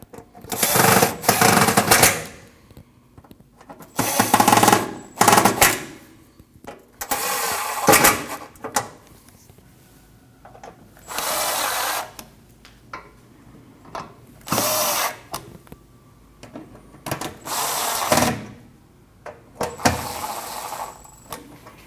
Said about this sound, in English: Now you can tighten all 7 screws.